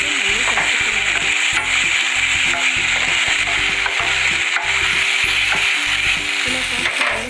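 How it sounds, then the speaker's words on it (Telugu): Chili powder and masala paste stirred in a frying pan for methi paneer, continuous sizzling under rhythmic, repeated spoon scrapes and knocks against the pan, close and fairly loud. "ఇలా పేస్ట్ చేసుకున్న ప్యాన్లో వేసుకొని పచ్చి వాసన పోయేంత వరకు మళ్ళీ కలుపుకోవాలి."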